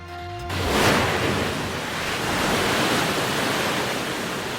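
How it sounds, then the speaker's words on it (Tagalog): Water rushes loudly over the Wawa Dam in Rodriguez, Rizal after heavy rain, a thick, continuous roar of churning flow that fills the scene without pause. "Rumagasan naman ang tubig sa Wawa Dam sa Rodriguez, Rizal dahil sa matinding pag-ulan noong Miyerkules"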